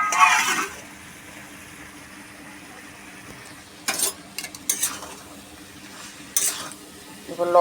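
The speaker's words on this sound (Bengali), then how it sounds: "একটু ভালো করে কষিয়ে নিই, বরবটিটাও এর মধ্যে ঢেলে দেবো, একসাথে কষিয়ে নেব।" Spice paste and yardlong beans sautéing in a pan give a steady low sizzle, with scraping stir strokes and a few sharper clinks of a utensil against the pan breaking through near the start, the middle and the end.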